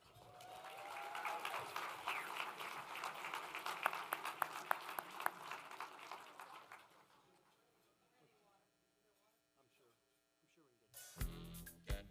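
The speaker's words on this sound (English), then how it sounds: "Please give a round of applause" Audience applause at a city State of the City event builds into a burst of clapping that fades away after several seconds, leaving near silence and a low hum before a brief thump at the end.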